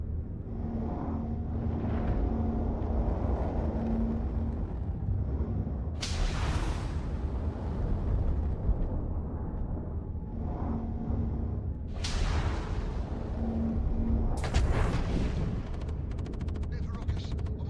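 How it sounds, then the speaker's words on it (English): Gunfire and explosions in the space game Star Citizen, sharp bursts cracking out every few seconds over a constant low rumble of ship engines, with a voice speaking faintly underneath. "There's gunfire."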